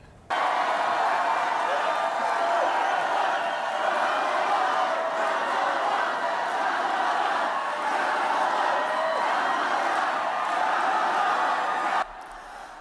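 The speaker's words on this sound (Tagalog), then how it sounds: "The crowd chanted her name, capturing the rally's energy." A packed crowd at a Harris presidential campaign rally in Wisconsin roars and chants in a dense, continuous wall of voices, loud and unbroken for about twelve seconds before cutting off abruptly.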